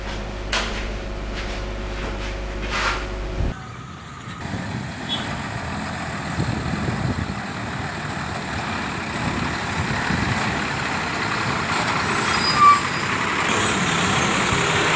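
Large trucks roll over a damaged, potholed road: a loud clunk and rattle, then a heavy engine rumble and rumbling tyres that build and swell as the vehicles pass close by, with a brief high beep near the end.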